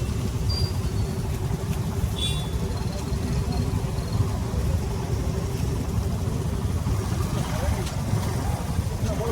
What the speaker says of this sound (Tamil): இது லாரின்னு நினைக்கிறேன்